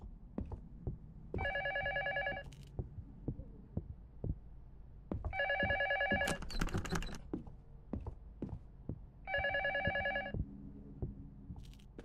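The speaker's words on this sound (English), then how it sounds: "Why does it sound like there's a phone here?" An old telephone rings in the horror game Luto, three separate bursts of bright electronic trilling, loud and close, spaced several seconds apart over a dark ambient bed with scattered clicking ticks between rings.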